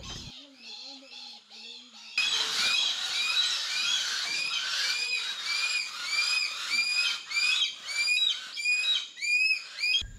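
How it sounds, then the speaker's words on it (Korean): Many birds call loudly and continuously at a Philippine eagle conservation center, with repeated chirping and whistling calls layered close together after a brief quieter opening. "새들이 굉장히 반겨줍니다."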